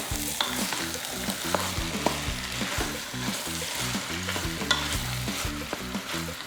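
Three pounds of ground turkey browning in a Ninja Foodi pot, a steady sizzle with rhythmic scraping and stirring strokes throughout, close and continuous.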